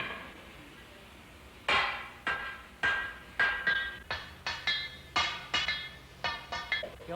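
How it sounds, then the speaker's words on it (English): Two blacksmiths' hammers strike metal in turn, giving about fourteen sharp, ringing clangs in a quick alternating rhythm after a quiet start. The blows are close and loud. "Wherever my hammer hits, he follows me."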